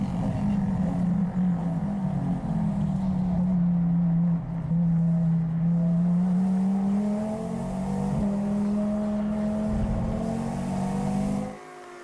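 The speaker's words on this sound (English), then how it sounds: "We go on board once again with the KTM Crossbow of Karin Racing." A KTM X-Bow race car recorded onboard at Slovakia Ring during a GT endurance race gives a loud, sustained engine drone that rises and falls with gear changes, then cuts off abruptly near the end.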